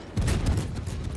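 A salvo of high-explosive shells from a warship in World of Warships, a loud, dense rumbling boom that swells sharply and rolls on without a break, no voices over it.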